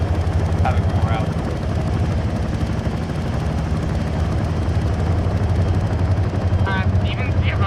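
A military helicopter during an airborne operation gives a loud, continuous rotor and engine roar with a steady low throb, with brief bursts of radio chatter and voices over it.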